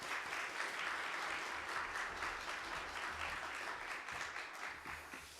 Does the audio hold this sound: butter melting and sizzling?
no